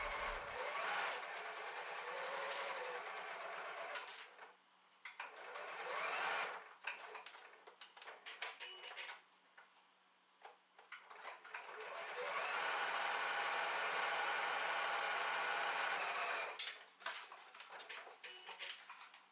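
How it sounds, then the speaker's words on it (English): A sewing machine top stitches the long sides of a fabric strap for a Christmas stocking, running in steady bursts with brief pauses between, close and fairly quiet with light clattering. "Top stitch the long sides to keep the strap together."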